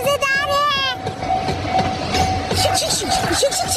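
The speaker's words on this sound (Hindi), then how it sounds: "मिनी ट्रेन भी चलती है इस पार्क में" A cartoon mini train running in a park sounds a short horn, then rolls on with rhythmic clickety-clack over the rails and a few more light whistle tones.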